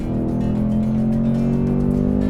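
A Ford Mustang Dark Horse on a race track sliding into oversteer, its engine droning loud and steady with a constant tonal note and a faint tire hiss beneath, no voices.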